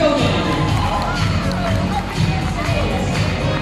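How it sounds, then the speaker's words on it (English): Guests at a surprise birthday party for Mommy Tessie and granddaughter Nikita Dimagiba cheer and clap in a dense, steady crowd roar that fills the whole stretch, with voices calling out through it. "A round of applause,"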